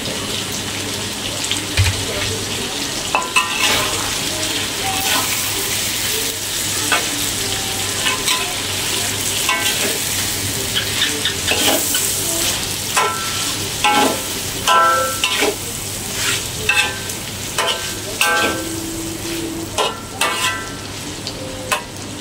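Garlic and small shallots frying in a pan, a steady loud sizzle with intermittent clinks and scrapes of stirring throughout, no voices.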